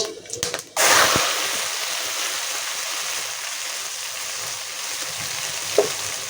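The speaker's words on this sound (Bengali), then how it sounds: "এখানে কিন্তু পেঁয়াজ অলরেডি বেটে রেখে দিয়েছি পেঁয়াজটাও দিয়ে দেবো" Onion paste dropped into hot mustard oil with spices sets off a sudden loud hiss and splatter that settles into a steady frying sizzle, with a faint clink near the end.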